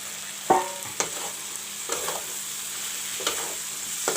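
Soya chunks fry with tomatoes and masala in a pan, a faint, low sizzle broken by a handful of sharp clinks and scrapes as the mix is stirred.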